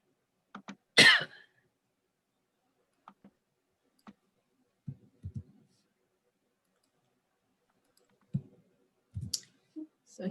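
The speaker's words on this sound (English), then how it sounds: "I'm starting to cough" A person coughs indoors during an online training session: one sharp loud cough near the start, then scattered faint throat noises and small clicks spread across long stretches of silence.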